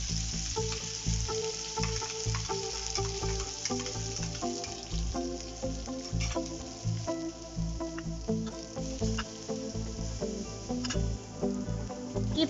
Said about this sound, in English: Now add the blended paste and fry till the oil separates from the paste.